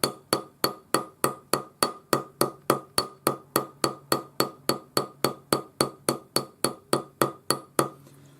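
A welding hammer's sharp edge strikes a steel block over and over to texture metal, about twenty-six crisp ringing metallic blows at a steady, quick rhythm, close and loud, with no talk.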